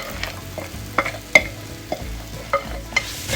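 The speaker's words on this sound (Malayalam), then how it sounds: "ഇനി നമുക്കിതിലേക്ക് നമ്മുടെ നേരത്തെ ഉപ്പ് പുരട്ടി വെച്ചിരിക്കുന്ന മാങ്ങ ചേർത്ത് മിക്സ് ചെയ്തെടുക്കും" A spoon stirs mango pickle in a pan, with salted mango pieces being mixed through the spiced mixture. Soft scraping strokes and sharp clinks come at a steady, irregular rhythm, close and alone with no talk.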